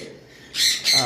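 Conure parrots squawk loudly up close: two harsh, shrill bursts follow a quieter moment, the second one trailing off.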